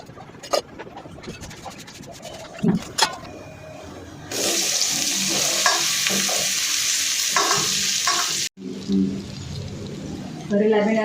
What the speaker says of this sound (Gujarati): હવે આપણે ભીંડાનું શાક વઘારી નાખીએ